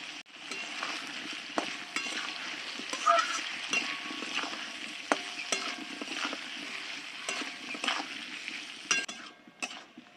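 Potatoes and cauliflower fry together with turmeric and salt, giving a dense, continuous sizzle close up. A spatula stirs and clinks against the pan throughout, with no talking.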